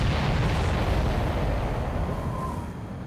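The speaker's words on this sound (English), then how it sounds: "Did you see that explosion? Looks like that's one of them down." Supply ship blowing up in the Ace Combat 7 video game, a heavy rumbling blast that opens loud and then rolls and decays slowly over a few seconds, with no talking over it.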